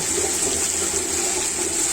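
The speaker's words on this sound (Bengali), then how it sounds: "আমি এখন এতে পানি অ্যাড করে দিব" A steady rush of water pouring into a pan, close and loud, continuous for the whole stretch with no voices.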